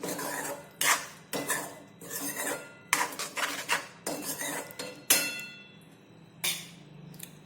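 A spoon scrapes and clatters against a metal pan while vegetable curry is stirred with the gas flame off. The knocks and scraping strokes come in short irregular bursts, close and fairly loud, with no talking.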